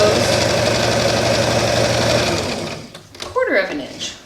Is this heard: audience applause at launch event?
no